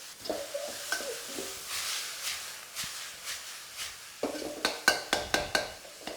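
Pork stir-frying in a wok, a soft sizzle under rhythmic scraping and tossing strokes of a metal utensil against the wok, slower at first, then a quick run of sharp clanking strokes near the end, no talking.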